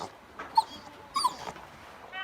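A dog whimpers softly in a few short, high whines, close by among billy goats, with quiet pauses between.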